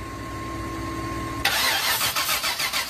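1998 GMC 4x4 truck that had not been running: a low steady hum, then the engine cranking in rapid rhythmic pulses, close and fairly loud.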